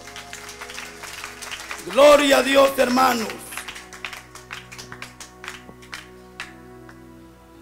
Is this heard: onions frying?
no